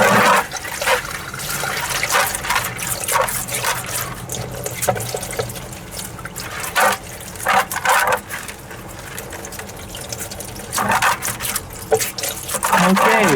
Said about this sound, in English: Washing out the bucket.